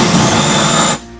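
A power drill with a depth stop collar runs at a steady high whine, drilling continuously for about a second before the sound cuts off abruptly.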